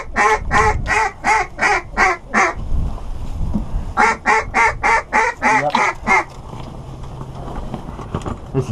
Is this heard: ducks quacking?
yes